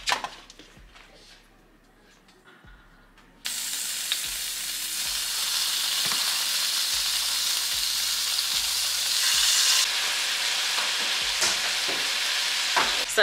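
Hibachi chicken and steak on a griddle: a few quiet scrapes, then a sudden loud, steady sizzle that keeps going, with a spatula scraping and tapping now and then.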